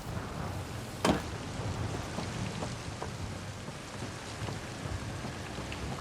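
Rain falls steadily in Mass Effect: Andromeda, a dense continuous patter with a sharp crack early on and scattered drops, heard alone at moderate loudness without talk.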